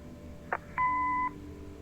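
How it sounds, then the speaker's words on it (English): In the video game Kathy Rain, an answering machine gives a short click then a single clear electronic beep lasting about half a second over a quiet background hum. "Leave a message after the beep."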